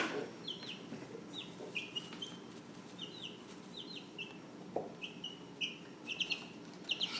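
Young chickens with flight feathers coming in, kept in a box, give repeated short chirpy clucks and peeps in scattered bursts, fairly close over a low steady background hum.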